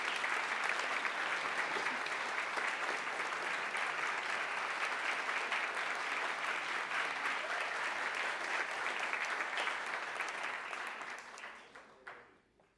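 Dense, sustained applause from an audience at a Colombian cabinet swearing-in ceremony after President Gustavo Petro signs a decree, loud and even throughout before fading away in the last second or so.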